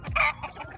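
A single short cluck-squawk from a farm chicken at a poultry farm in Tây Ninh, close and clear, followed by a couple of softer clucks within under a second.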